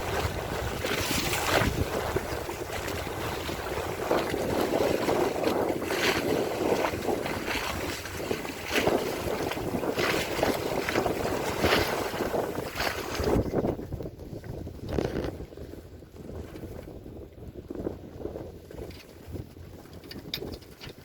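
Wind roars and buffets the microphone aboard a sailboat underway on the Chesapeake, with water rushing along the hull, loud and steady for most of the stretch before easing toward the end; no one speaks.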